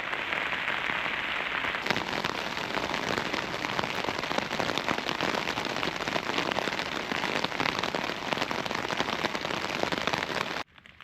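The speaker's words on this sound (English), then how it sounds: "I was hoping to get a lie in till 6, but the rain's on." Heavy rain drums steadily and loudly on a taut OEX Bobcat 1 tent surface in Scotland, a dense crackling patter that continues unbroken before cutting off abruptly.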